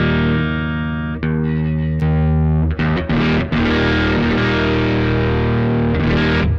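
Electric guitar played through a Tech 21 Sansamp GT2 on its clean setting, a sustained ringing chord followed by a run of picked notes and strums, close and loud with no talking.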